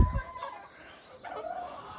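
Hens and a rooster on a small home farm give short clucking calls: a brief low burst at the start, then a couple of faint, thin vocalizations over quiet yard ambience.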